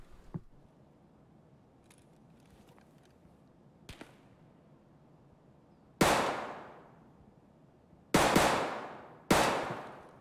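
Three loud, sharp gunshots in the video game Escape from Tarkov, each with a decaying echo, spaced over a few seconds after quieter faint clicks and thumps.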